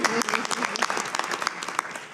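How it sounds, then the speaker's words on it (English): Scattered audience applause at a school board meeting, short and moderately loud, with a few individual claps standing out and some voices underneath. "I think that deserves a round of applause for Caroline."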